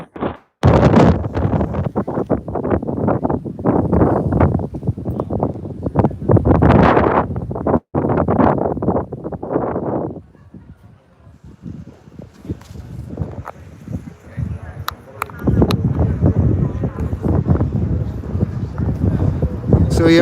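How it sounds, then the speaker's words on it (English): Strong wind buffets a handheld microphone outdoors in East Belfast, a loud rumbling roar in long gusts that drops away for a few seconds and then returns. "It's really windy."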